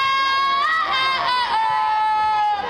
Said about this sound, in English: the softball team makes even more noise than the crowd as a way to up their game